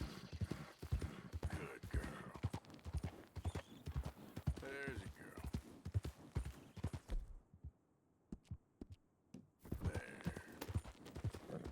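Hooves of a walking horse clip-clop in a steady rhythm at close range, with soft creaks and brief stretches of quiet between the steps.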